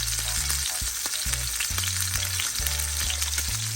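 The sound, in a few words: steak searing in a pan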